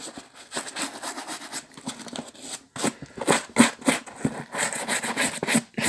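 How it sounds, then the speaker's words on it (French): Leather shoes brushed roughly by hand with a shoe brush, including along the seams, giving quick repeated scrubbing strokes in a steady patter, close and fairly soft throughout. "Je brosse vraiment grossièrement."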